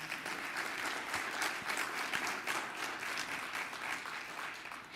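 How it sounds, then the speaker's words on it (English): Audience applause at the closing of a James Baldwin exhibition event, a dense continuous clatter of many hands held at a fairly even level throughout, heard at a distance and fairly quiet. "Please give that group of people a round of applause"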